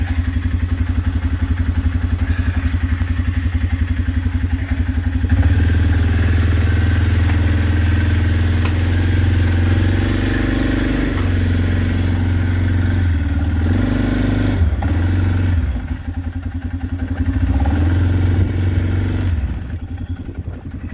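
An Arctic Cat 500 ATV four-wheeler idles loudly nearby in heavy snow. The steady engine throb dips and surges briefly, with occasional clatter, then fades toward the end.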